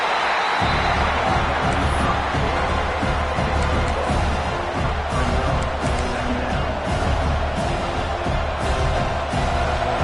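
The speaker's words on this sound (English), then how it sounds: "this crowd coming to life here, trying to help the defense get a stop" A football stadium crowd roars as the home defense tries to get a stop, a loud, sustained wash of cheering voices with no break.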